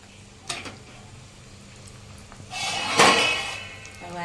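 Hot oil with whole cloves, cinnamon, black pepper and red chillies is poured as a tempering into sweet mango pickle. A soft clink comes first, then a loud, close sizzle bursts up and keeps crackling to the end.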